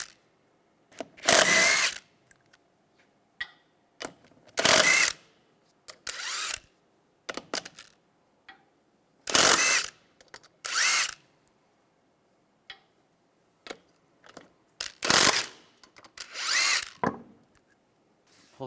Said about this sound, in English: Using a 21mm socket, we're going to take the lug nuts off and remove the wheel.